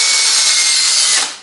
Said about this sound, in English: the drill runs quite concentric